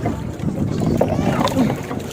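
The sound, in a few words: small boat (bangka) moving on the sea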